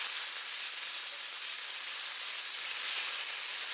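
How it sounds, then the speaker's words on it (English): Minced garlic and lean pork fry in flavorless oil, giving a steady, even sizzle and hiss that holds at a quiet level throughout, with no talking. "Add in the minced garlic. Add in the lean pork."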